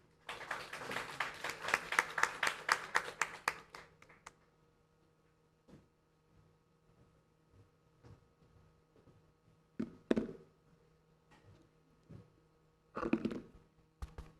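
A small audience at a Tunghai University GMBA graduation ceremony claps in a short burst of applause lasting about four seconds, followed by quiet and a few isolated sharp knocks.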